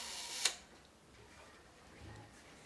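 A single sharp metallic click as a cable shutter release is screwed onto an old bellows camera, near and crisp, followed by faint handling sounds.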